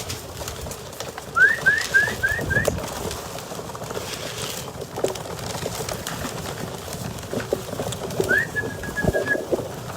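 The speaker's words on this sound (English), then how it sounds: "Almost so many pigeons you can't even see them." A large flock of pigeons gathers at a feeding area, with soft wing flutters, shuffling and a low rustle of many birds throughout, broken by a quick run of short chirping calls and a later drawn-out note.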